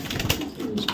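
Dubas racing pigeons, a baby pair from BRPL 26 racing stock, coo in a low, throaty burble with a soft chirp above, close by and steady over about a second with no talk.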